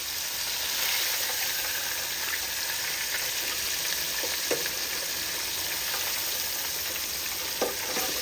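Flipped pork chops fry in hot oil with a dense, steady sizzle that stays even throughout, broken by a few faint pops and crackles close by.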